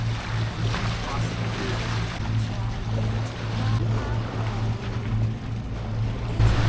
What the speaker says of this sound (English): Mainsail is up and we're now motoring out of the bay to go and find ourselves some wind.